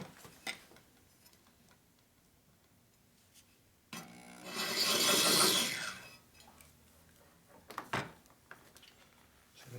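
Cutting tool grinding metal on a 1961 Harley-Davidson Sportster XLCH motor part, a single rasping scrape of about two seconds in the middle, surrounded by faint ticks and knocks in a quiet workshop.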